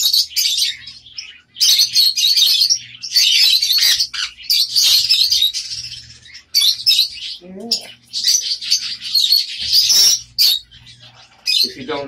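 A growing baby caique parrot being hand-fed, giving loud, close, repeated high chirps and squawks in rapid bursts with brief gaps between them, continuing throughout.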